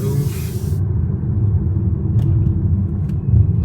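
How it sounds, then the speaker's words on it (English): Petrol engine of a 2024 Lynk&Co 01 PHEV with a 1.5 turbo, heard from inside the cabin on a night drive, a low steady rumble with road noise and no talk. "We're driving now on petrol. You can hear it a little bit."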